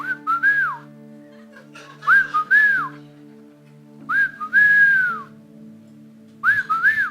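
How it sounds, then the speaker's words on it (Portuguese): A person whistles a simple melody in four short phrases separated by brief pauses, clear and close, with faint background hum. "Aí eu comecei a assobiar."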